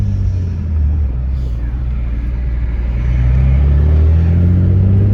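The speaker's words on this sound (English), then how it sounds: "it keeps going, bro. That's insane" An HR-swapped Nissan G35 coupe running anti-lag, its engine droning and rumbling loudly and steadily with a rising, sustained rev tone heard from inside the car, no talking.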